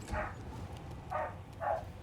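Eleven-year-old dogs give three separate barks at a moderate distance, one near the start and two close together toward the end, with quiet gaps between them.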